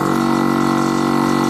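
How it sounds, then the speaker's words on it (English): A truck's air brake compressor building air pressure, a steady loud mechanical hum with a constant droning tone and no talk over it. "There's the compressor stuff."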